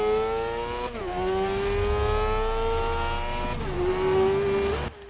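A race car engine in the racing video game Grid revs high and steady, dips briefly with a gear change near the start, then climbs again before another shift, loud and continuous with no talk.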